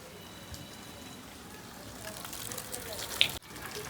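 Heavy rain sends water gushing in a continuous soft wash, fairly faint and distant, swelling slightly toward the end before a brief sharp knock and a sudden dip.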